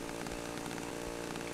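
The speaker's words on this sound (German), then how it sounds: "Von der blöden Kettensäge, meine ich." A chainsaw roars in the video game Cry of Fear, a constant buzzing engine drone that pulses slightly in pitch, loud and close throughout the short clip with no talk.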